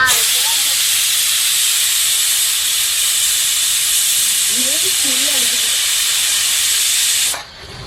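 A pressure cooker of chicken biryani vents steam as a loud, continuous hiss for about seven seconds before cutting off abruptly, with a faint voice briefly underneath.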